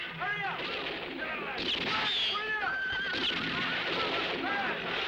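Horses whinny and neigh repeatedly amid galloping hooves in a 1967 western film scene, loud and close, with gunfire and shouting voices mixed in.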